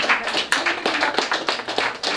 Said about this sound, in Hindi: आप प्लीज इदरीस भाई के लिए जोरदार तालियां.